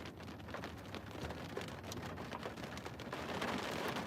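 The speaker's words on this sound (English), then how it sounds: "It's starting to rain." Rain starts falling outdoors at a rodeo, a steady dense patter of drops striking surfaces nearby, fairly soft and continuous, growing slightly heavier toward the end with no voices over it.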